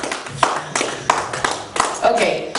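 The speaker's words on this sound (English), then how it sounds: "Give him a round of applause" An audience applauds a speaker at a Nigerian sports journalists' convention, a short burst of clapping with a voice speaking loudly over it.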